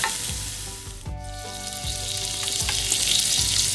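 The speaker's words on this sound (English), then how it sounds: "We're gonna saute or fry until it's brown and renders out a good bit of fat" Five strips of bacon frying in a pan, a steady close sizzle and crackle with a few soft stirring scrapes, no voices.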